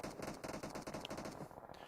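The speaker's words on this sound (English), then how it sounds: "So we got shots coming through right here, left, right, and center." Rapid automatic gunfire in a battle royale video game during a competitive league match, a dense, continuous stream of shots with bright metallic pings, moderately loud and unbroken for about two seconds.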